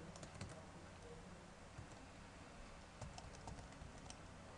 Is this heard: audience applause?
no